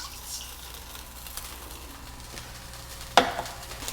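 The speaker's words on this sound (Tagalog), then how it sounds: "Ngayon naman gagamit tayo ng kawali at ilalagay na natin itong ating coconut milk." Coconut milk heats in a pan with a low steady sizzle and faint stirring, plus one sharp clink of a utensil near the end, close by with no voices.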